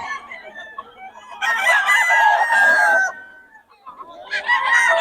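A Sweater-bloodline gamecock rooster crows loudly and nearby, letting out two strong bursts of crowing separated by a short pause, with softer clucking between them.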